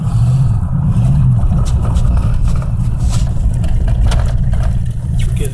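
A 1987 Chevy Caprice being driven, with a steady, loud low engine and road rumble throughout and a couple of brief rising engine tones early on.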